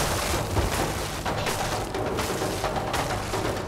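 A deep, rumbling boom with scattered crackling bursts, loud and sustained for a few seconds, as an explosion blows a door open in the video game Lara Croft and the Guardian of Light.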